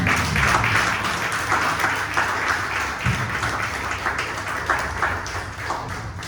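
Congregation in a church giving loud applause for the Lord, dense sustained clapping that stays strong for several seconds and slowly eases off near the end.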